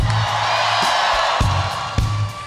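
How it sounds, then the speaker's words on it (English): A concert crowd at a show in LA cheers and applauds loudly, a dense sustained roar of voices and clapping with a few sharper shouts poking through. "Give yourselves a round of applause."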